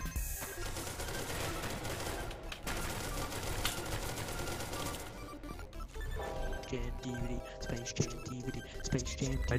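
Gunfire in SCP: Secret Laboratory, with rapid shots crackling through a busy, noisy game scene. A voice talks intermittently, and tonal game sounds take over in the second half.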